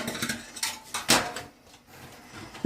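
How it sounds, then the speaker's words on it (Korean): A child washes dishes at a kitchen sink, with clattering pots, pans and cutlery knocking together in irregular bursts, close and moderately loud, with no talking. "설거지가 재밌어요. 이거 해야 돼요."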